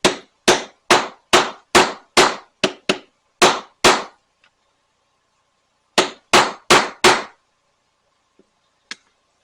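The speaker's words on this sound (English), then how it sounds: "Go ahead and punch a rivet hole in there." A hammer strikes a rivet punch through a leather concho in a quick run of about ten sharp, loud blows, a pause, then four more, with a couple of faint taps at the end.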